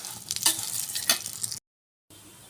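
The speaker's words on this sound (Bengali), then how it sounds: "আমি যে সেমইটা রেখেছিলাম মানে ফালুদা সেমইটা সেটা আমি দিয়ে দেবো মধ্যে দিয়ে ভালো করে নেড়ে এটাও ভেজে নেব" Falooda vermicelli frying in ghee, a close, bright sizzle with stirring scrapes, broken by a half-second gap before the sizzle resumes more quietly.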